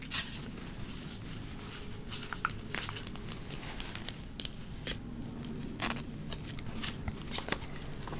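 Paper crinkles and is snipped with scissors up close, with steady soft rustling and sharp intermittent cuts in a quiet ASMR setting.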